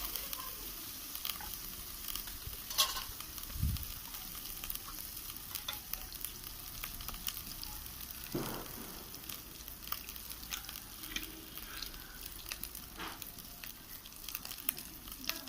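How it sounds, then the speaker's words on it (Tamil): Masala sautéing in a pan for kadai chicken, a steady close sizzle and fry with scraping stirs running throughout, a couple of louder clinks of the utensil against the pan, no voices. "அந்த பச்சை ஸ்மெல் போகணும், அது வரைக்கும் நல்லா வதக்கினா போதும்"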